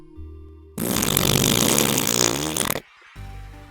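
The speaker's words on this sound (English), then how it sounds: "after hearing my father fart loudly" A man lets out a long, loud fart that lasts about two seconds, with a rough, buzzing, sputtering tone, then cuts off abruptly into quiet.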